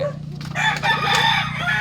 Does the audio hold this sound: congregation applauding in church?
no